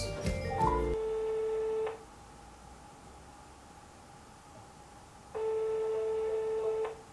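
A phone call to a random number rings out: a short burst of dialing tones, then a steady electronic ring tone that stops, a long hissy pause, and a second ring, close and clear over line noise.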